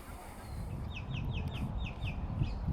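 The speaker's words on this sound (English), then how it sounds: "birds chirping," Small birds give short repeated chirps at a distance in a city park, faint over a steady low rumble of traffic and general outdoor noise.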